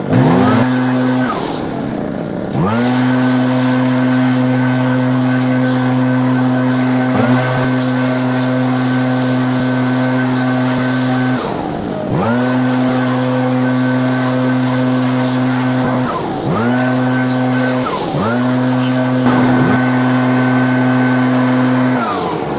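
An Echo PB9010T backpack leaf blower, running on race fuel, roars loudly and close up in a steady high-pitched engine drone, with the throttle dropping and surging back up several times.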